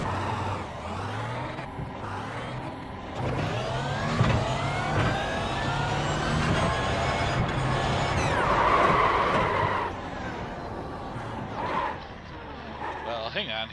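Audi R18 prototype race car engine in iRacing, a steady mid-pitched drone with revving rises and falls across the lap, loud and continuous while someone talks over it.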